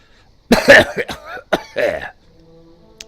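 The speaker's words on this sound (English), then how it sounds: "The Uruk sputters, coughing up blood, and grits his teeth together." A wounded Uruk in the game Lord of the Rings Online gives several harsh, close, loud coughs and sputters in quick bursts, then falls quiet.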